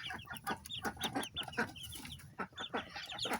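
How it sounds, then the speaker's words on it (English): Baby hopper chicks on a small farm cheep in a steady, busy stream of short, high peeps, close by and fairly loud, with no talking. "Here are the baby chicks."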